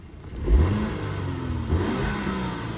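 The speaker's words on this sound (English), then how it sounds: "let's give it a little rev here" A 2020 Audi Q5 engine gets a brief rev, a throaty rise and short swell of engine note that settles back toward a steady idle, close by with no talking.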